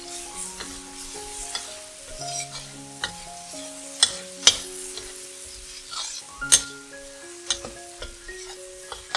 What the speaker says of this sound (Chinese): 加入5克的酱油，炒一炒。